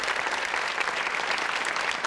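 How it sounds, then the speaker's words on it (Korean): Steady, dense applause from a lecture-hall audience at a televised talk on Laozi and Eastern classics, filling the whole stretch evenly without a break and with no voices rising above it. "박수 한번."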